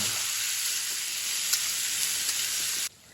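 Okra sizzles steadily in a hot pan, a loud, close and continuous hiss with a few faint ticks. It cuts off abruptly near the end. No one speaks.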